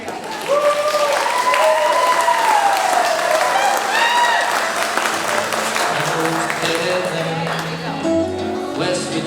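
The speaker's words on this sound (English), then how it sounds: "Can we give another round of applause?" Sustained applause from a crowd at a graduation ceremony, steady clapping throughout with some voices and musical tones mixed in underneath.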